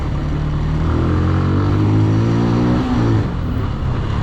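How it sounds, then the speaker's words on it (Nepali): A motorcycle engine runs with a steady, rough, grinding drone while being ridden at normal speed on a road, a fault making an unusual rasping noise, loud and close throughout, with no talking. "नर्मल कुदाउँदा पनि घ्यार गरिरहेछ क्या यो चाहिँ एउटा समस्या रहेछ यो बाइकमा"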